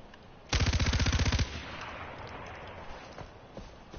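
A rapid burst of automatic gunfire in the Far Cry 4 video game, about a dozen evenly spaced loud shots lasting roughly a second, followed by quieter game ambience.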